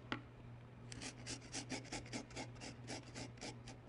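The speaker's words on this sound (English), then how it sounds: "I'm gonna grate it on a microplane zester like this." Fresh ginger is rubbed across a microplane zester in a kitchen, producing quiet rhythmic rasping strokes, about a dozen in quick succession, close and soft over a low background hum.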